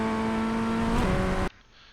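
Ray FF1600 formula car in iRacing at Canadian Tire Motorsport Park, a sustained buzzing engine note held at speed, then a quick dip as the driver lifts entering turn one before the sound cuts away.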